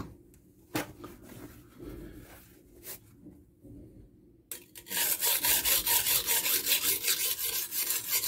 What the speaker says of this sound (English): Now I'm just going to try and grind down that burr, reduce the pressure.